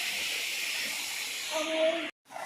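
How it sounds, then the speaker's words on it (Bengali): Fish sizzling as it fries in a pan in a home kitchen, a steady bright hiss with a brief tonal squeal near the end before cutting out abruptly. "আর এখন ভেজে নিচ্ছি মাছ।"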